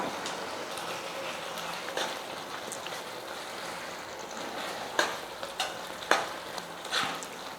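Potato masala for puri bubbles and is stirred in a pan, making a soft steady sizzle and simmer with a few sharper utensil scrapes and knocks near the end, and no talk.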